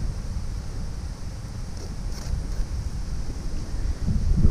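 Steady wind blows outdoors beside a small pond during a fishing outing, a continuous low rumble of gusts buffeting the microphone with no voices.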